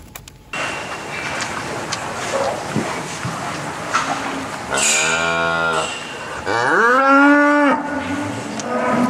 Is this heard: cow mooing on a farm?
yes